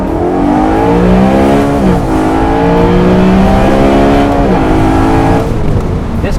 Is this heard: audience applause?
no